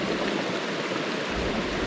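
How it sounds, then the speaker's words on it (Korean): Steady, close rush of a clear mountain valley stream flowing over rocks in a forested gorge, continuous broadband water noise with no voices. "계곡을 타고 흘러내리는 물소리"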